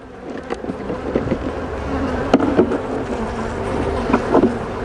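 Honeybees buzz around a hive in a steady, close drone with a busy, layered hum and occasional louder passes near the microphone.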